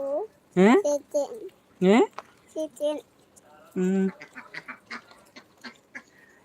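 Ducks quack in loud, sharp bursts in the Kuttanad backwaters of Kerala, with three prominent calls spaced a second or two apart, followed by softer chatter and quieter calls.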